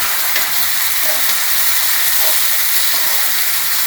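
Steady, loud sizzling of onion and ground spices frying in a hot pan over low-medium heat, a continuous crackling hiss with no talking.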